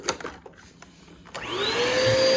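A few clicks and knocks, then a Eureka Powerspeed upright vacuum cleaner with a badly clogged filter switches on, its motor whining up in pitch and settling into a loud, steady roar.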